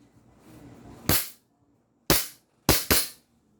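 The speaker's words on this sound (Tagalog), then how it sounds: "Firing po tayo mga airsoft." An upgraded Umarex Glock 17 airsoft pistol fires four sharp, loud cracks, one alone, then one more, then a quick pair, each with silence between.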